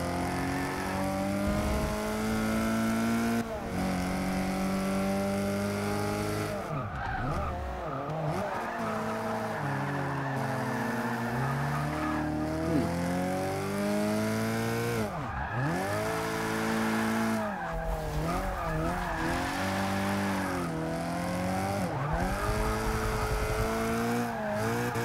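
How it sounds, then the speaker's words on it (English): Drift car in a race sliding through corners, engine revving up and down with repeated long tire squeals and skids, loud and continuous. "That's your very good drift car."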